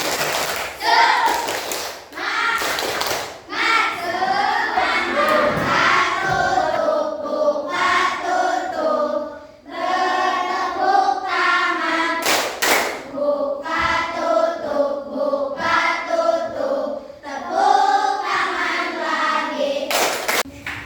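A primary classroom does the tepuk semangat cheer: children chant in unison while clapping in a quick patterned rhythm, bursts of claps and sung syllables alternating for about twenty seconds, close and lively.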